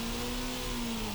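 The Formula RSS Supreme open-wheel racing car in Assetto Corsa holds a steady, fairly quiet engine drone in first gear, with a sustained, even mid-pitched hum and no talk.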